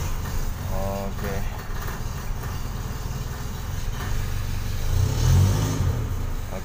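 A Suzuki Jimny Katana 4WD engine runs with a steady low rumble that swells into a louder rev near the end. A voice speaks briefly over it early on.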